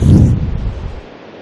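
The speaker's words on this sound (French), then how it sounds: "Ah, il pleut" Rain in the Minecraft video game comes as a loud, deep rumbling burst that fades into a softer hiss within about a second.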